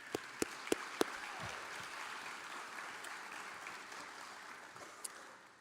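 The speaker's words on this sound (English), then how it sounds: "If we could just give him a round of applause." Audience applause at the Husson Sports Hall of Fame ceremony, a steady wash of clapping in a large hall after a few sharp, separate claps at the start, moderately distant and fairly soft, fading slightly toward the end.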